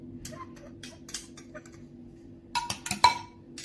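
Light clinks and ticks of a utensil against a bowl while mixing eggs, milk, black pepper and salt, a few quiet taps early on, then a couple of sharper, louder clinks near the end over a faint low hum.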